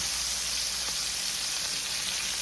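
Chicken liver and onions sizzle steadily in a frying pan, a dense, even crackle of hot oil that holds close and loud without pause.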